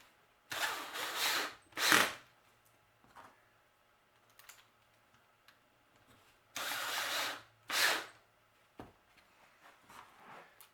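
A power drill with its clutch engaged drives a screw into the wood of a bat house kit, running in two long whirring bursts with short clicks and taps between them, loud and close.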